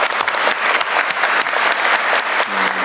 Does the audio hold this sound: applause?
yes